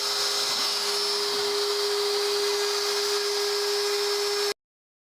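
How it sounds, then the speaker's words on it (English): Inventables X-Carve CNC spindle cutting a workpiece, a steady high-pitched whine with a constant hum, continuous and fairly loud for about four and a half seconds before cutting off to silence. "the spindle is on, and now I'm gonna hit carve. And now we are going to let it cut."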